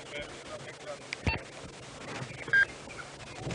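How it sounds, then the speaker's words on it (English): A safari vehicle's two-way radio emits a short electronic beep during a live early-morning game drive in the African bush, heard amid faint crackle and low background chatter. "I hear it beeping quite a bit"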